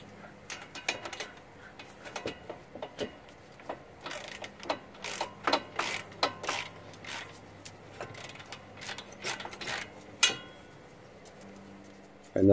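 A ratchet turns a short socket on an extension to undo front brake caliper bolts on a 2007-2014 Subaru Impreza, giving quiet, irregular clicking bursts close by.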